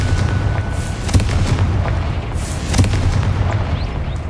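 A Confringo blasting spell in Hogwarts Legacy lets off loud booming bursts, two sharp impacts over a dense rumbling roar that stays close and heavy throughout.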